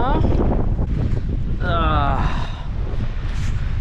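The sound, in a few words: strong wind at the coast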